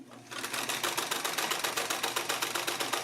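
A Singer 319W sewing machine stitches in a fast, even mechanical rhythm of needle strokes, close and loud for a few seconds after a short quiet start.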